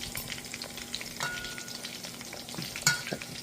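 Jamaican-style BBQ jerk meatballs fry slowly in a pan with a steady close sizzle, broken by occasional stirring scrapes and one sharper clink near the end.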